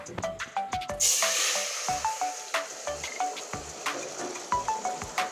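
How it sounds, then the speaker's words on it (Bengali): Whole spice tempering hits hot oil for a thin vegetarian potato and brinjal curry: a bright burst of sizzle, then a steady crackling fry with repeated sharp pops and ticks, close and fairly loud. "এবার আমি ফোড়ন ঢেলে দিচ্ছি"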